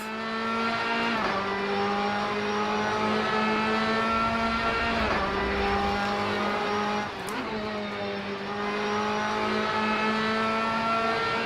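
A Ginetta G55 GT3 race car in Assetto Corsa on the Road America circuit, its engine loud and close, revving high through several gear changes and lifts, with brief tire noise and no talk.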